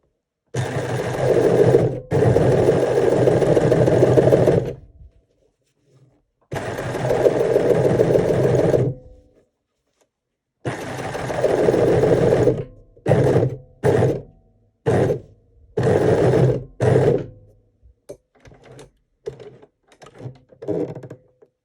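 A combination overlocker/coverstitch machine sews a five-thread stitch to repair a shirt. It runs in loud, steady mechanical bursts of several seconds each, then in rapid short stops and starts, with no talking.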